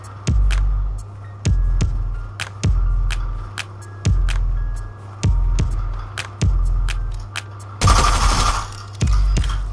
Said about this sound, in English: of gunshots, enemies definitely nearby